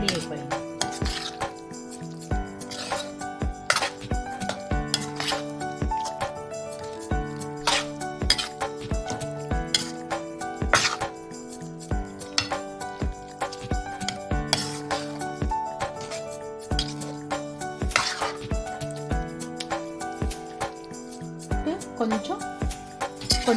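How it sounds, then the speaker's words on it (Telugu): Amla pickle stirred and mixed with a spoon in a bowl, giving steady rapid clinks and scrapes of metal on the bowl throughout, close and continuous, with quiet talk faintly underneath. "ఇప్పుడు అన్నీ మనం కలిపేస్తాం."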